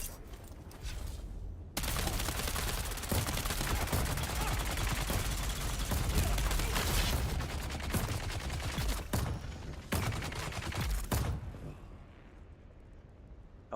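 Dense, rapid gunfire roars through a combat fight in Dune: Awakening and runs almost continuously for several seconds before it cuts off, ending in quieter ambience.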